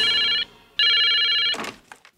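Telephone ringing in two loud, close bursts of bright electronic trilling separated by a short pause, followed by a few clattering knocks.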